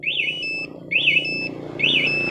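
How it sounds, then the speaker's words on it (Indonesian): A loud electronic motorcycle anti-theft alarm on a Kawasaki Ninja Mono repeats three warbling chirps in a steady rhythm, each rising and falling sharply, over a low engine-like rumble. "Pencet tombol tutup 1 kali maka mesin mati dan alarm berbunyi ya."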